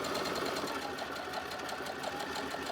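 A sewing machine runs steadily at a close, even pace, stitching a quarter-inch seam along a marked line on a Solare quilt block, a continuous dense whir with no pauses or talk.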